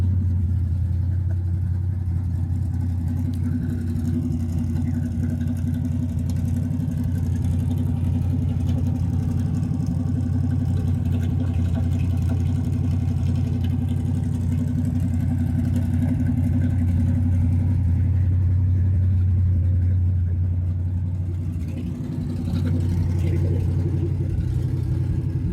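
A 1954 Chevrolet 3100 pickup with a 350 V8, its engine rumbling loud and close with a steady deep drone and a brief revving surge near the end.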